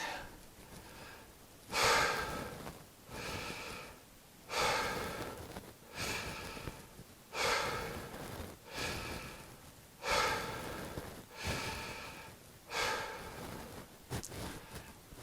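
A man imitates someone about to vomit with heavy, rhythmic breathing: about eight loud, rasping gasps and heaves spaced roughly every one and a half to two seconds, close to the listener and with no words.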